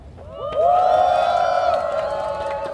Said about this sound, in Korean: 스스로를 위해서 박수 한번